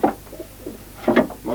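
Pigeons cooing in a loft, two short throaty coos close by, one at the start and another after a brief pause.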